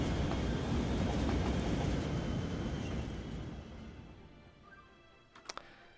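An intercity train passes in the video game Cities: Skylines, a steady rolling rumble with faint clatter that fades away over several seconds, ending with a couple of brief sharp clicks.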